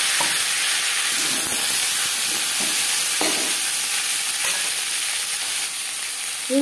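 Taro pieces fry in mustard oil in a wok, a loud, constant close-up sizzle broken by occasional soft knocks and scrapes of stirring.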